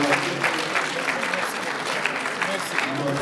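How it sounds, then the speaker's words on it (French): A crowd applauds steadily through a Kid's Athletics training session, with thick, even clapping that stays at one level the whole time and faint voices underneath. "On applaudit encore une fois."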